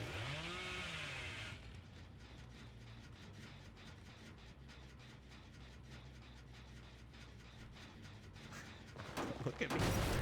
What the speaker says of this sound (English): it's weird that they don't know how to behave when I'm on my chainsaw